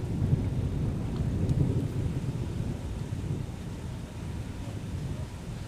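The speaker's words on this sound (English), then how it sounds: "The wind's starting to pick up a little bit up there in the trees." Wind rushes through trees outdoors as a continuous low roar and rumble with heavy gust noise on the microphone, loud and close, with no clear voices.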